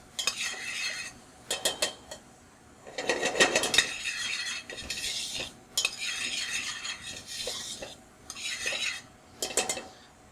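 Onion and garlic cooking in a pan for a fresh tomato spaghetti sauce, stirred with a utensil: repeated bursts of scraping and metallic clinks against the pan over a faint sizzle, close and uneven in rhythm.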